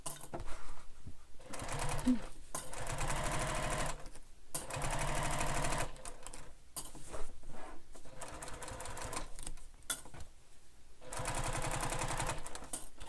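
A sewing machine stitches the sides of a fabric bag in rapid, buzzing runs, stopping and starting several times with short pauses between seams.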